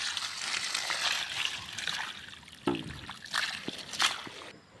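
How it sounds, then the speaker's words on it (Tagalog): Water trickles and sloshes gently near a mountain river, a soft continuous flow with a few brief splashes and clinks rising above it, close and moderately loud throughout. "Ayan, nandito na po yung tubig."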